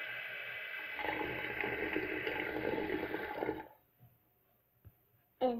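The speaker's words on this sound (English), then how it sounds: "fill that up with water" Water gushes steadily into a plastic bottle for nearly four seconds for a Baby Bottle Pop craft, then stops, leaving a few faint drips and knocks and a brief louder splash at the end.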